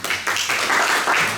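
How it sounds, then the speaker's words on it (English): An audience applauds at an international students' orientation as an immigration officer is welcomed, giving a short, dense burst of steady clapping. "Please give a round of applause."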